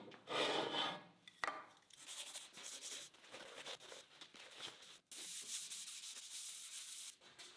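A vertical bandsaw cutting metal bar stock to length, a steady close-up hissing and rasping drone that runs through the whole stretch with a few brief drops, and no talking.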